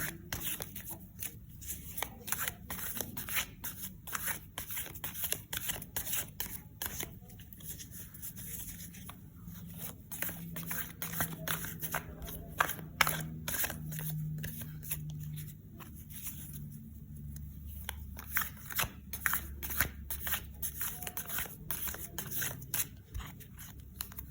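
Tarot cards are shuffled by hand in rapid, continuous riffling and flicking bursts, close and fairly quiet, with a soft voice speaking faintly underneath at times.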